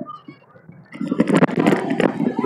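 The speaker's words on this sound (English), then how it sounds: "we got a waterfall" A waterfall rushes at an outdoor Guyana/Caribbean Day celebration in a park in Schenectady, NY, its steady broadband wash swelling after a quieter start and blending with crowd noise.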